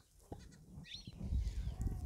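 Goats bleating on a small farm in Kenya during a drought, a faint distant call or two over low rustling and handling noise, with no talk.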